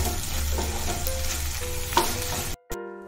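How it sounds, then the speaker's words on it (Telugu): Onion pieces fry with ginger garlic paste in a pan, a dense close sizzle with a few stirring scrapes, ending abruptly in a short silence and a faint tonal hum. "ఉల్లిపాయ ముక్కలు ఇలా వేగుతూ ఉండగా 1 స్పూన్ అల్లం వెల్లుల్లి పేస్ట్ వేసి ఉల్లిపాయలతో పాటు పచ్చివాసన పోయే వరకు వేయించుకోవాలి"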